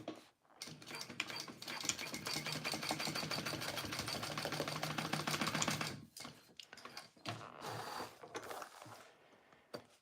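A sewing machine stitches through clear vinyl for a boxy bag in one steady run of rapid mechanical chatter lasting about five seconds, then stops, leaving a few quieter clicks and handling sounds behind it.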